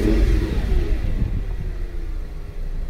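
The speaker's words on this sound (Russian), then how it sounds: "как только ты касаешься газа, он сразу слышно, как он там через всю свою впускную систему хапает воздух так" An Audi S8 with about 300,000 km on it revs up as the throttle opens, a deep, close engine rumble with intake air being drawn in, surging early and then settling into a steadier drone.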